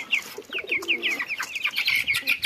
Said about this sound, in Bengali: এই হলো বাইরে কবুতরের ডাকে এই যে কবুতরের ডাক